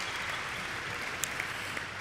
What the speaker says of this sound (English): Let's give a round of applause to all the students that shared their talents and all of the great things.